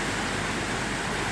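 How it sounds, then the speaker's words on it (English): Steady, dense hiss of heavy rain fills the clip evenly, a constant broadband wash with no talking over it. "It is very rainy today"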